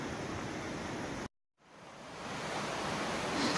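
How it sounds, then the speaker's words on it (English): Steady rushing roar of water pouring from a waterfall in Savage Gulf, hung with long ice formations on a 16-degree winter day; a broad, constant wash of sound that briefly cuts out, then swells back in. "That's the falls in the back."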